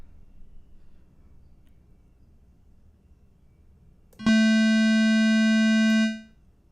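A single sustained synthesizer chord in 29-EDO microtonal tuning from the Vital synth enters abruptly after about four seconds of quiet hiss, rich in stacked harmonics, holds steady and loud for roughly two seconds, then fades out.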